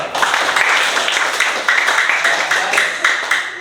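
A class clapping together at the start of an Islamic cultural history lesson, loud, close rhythmic bursts of hands beating in a steady repeated pattern.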